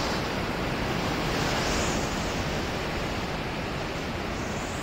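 Fast-flowing water rushing through the Boniyar reservoir dam in Baramulla with the gates open, a loud, steady, unbroken roar mixed with wind buffeting the microphone.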